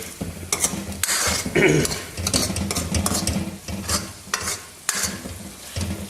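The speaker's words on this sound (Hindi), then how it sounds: "हमने इसको सब्ज़ मिर्चें डाल के 3-4 मिनट सिर्फ इसको फ्राई करना है" Chicken karahi with green chilies fries in a pan, with a steady close sizzle and repeated scraping, clinking stirs of a utensil against the metal.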